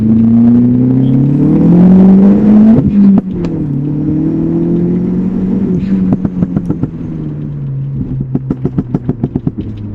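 A Volkswagen Golf 4 GTI engine, heard from inside the cabin, drones steadily as it accelerates. Its pitch climbs across two gear pulls. Toward the end, sharp rhythmic clicks and ticks sit over a lower idle-like hum, with no talk.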